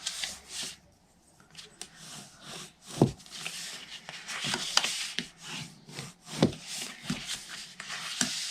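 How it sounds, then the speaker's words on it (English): Paper being folded and burnished for a rectangle box, with soft rubbing and sliding strokes and a few sharper creasing taps, close and fairly quiet, with no talk. "I'm going to fold and burnish."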